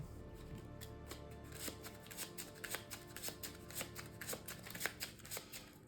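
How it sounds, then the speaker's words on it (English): Cards shuffled by hand into a deck during a Marvel Champions card game, a dense run of close, crisp riffling flicks for several seconds with no voices over it. "I'm going to shuffle swing in back into my deck."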